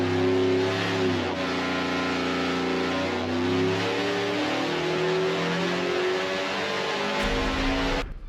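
A Chevrolet ZZ632 naturally aspirated 10.35-liter big block V8 crate engine roars on a dyno, a loud, dense, steady snarl with rising and falling harmonics before it cuts off abruptly near the end.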